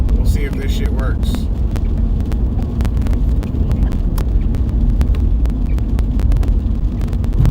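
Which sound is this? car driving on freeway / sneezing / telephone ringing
car driving on freeway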